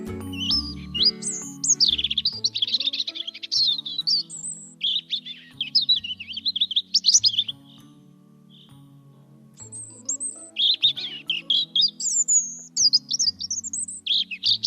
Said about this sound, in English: You guessed it, it's a robin.